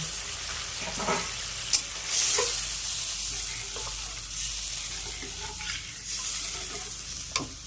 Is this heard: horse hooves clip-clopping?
no